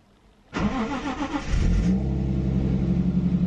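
A drift car's engine cranks briefly with freshly fitted spark plugs, then catches and revs up before settling into a loud, steady idle, close by with no talking.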